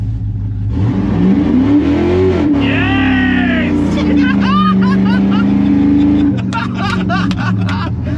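An LS V8 engine swapped into a Chevy C10 pickup truck revs hard and rumbles loudly, the pitch climbing and falling through several throttle blips, with a voice shouting briefly over it.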